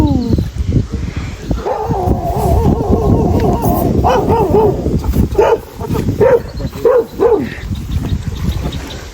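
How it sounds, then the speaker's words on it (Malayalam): Several dogs at Dolberg Lake bark, yip and whimper in quick repeated bursts close by, with voices and a faint engine hum mixed underneath. "കുറെ പട്ടികൾ."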